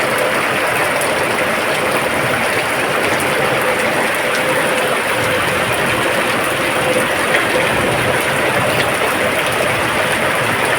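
Heavy overnight rain falling outside a gate where water has pooled, a steady dense hiss of downpour with splashing runoff, constant and fairly loud, no speech.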